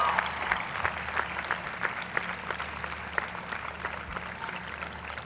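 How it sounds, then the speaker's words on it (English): Sustained applause for teachers and professors at a university convocation ceremony, a steady wash of many hands clapping from a distant crowd, moderately quiet and unbroken. "Let's give them a big round of applause."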